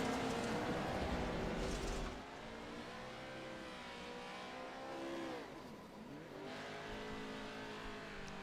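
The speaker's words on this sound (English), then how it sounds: "Doing a little drifting." A race truck in a racing video game drifts with its engine roaring and revving, the pitch sagging and climbing as it slides, against a steady rush of tire and motor noise. No voices.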